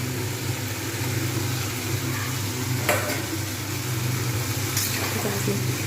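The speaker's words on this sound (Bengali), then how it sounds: "ভালোভাবে নাড়িয়ে দেবো।" Cauliflower florets with fried lentil dumplings (bori) get stirred in a pan for a vegetable curry with potato and peas, a steady close sizzle carrying occasional scraping strokes of the spoon, and nobody talks.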